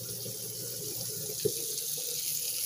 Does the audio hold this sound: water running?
yes